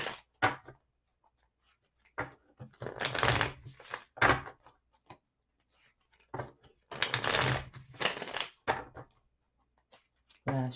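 Crisp bursts of tarot cards being shuffled, riffling in two main clusters with short taps and pauses between, close and fairly loud, no voices.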